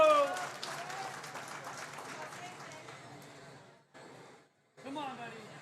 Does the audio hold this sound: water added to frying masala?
no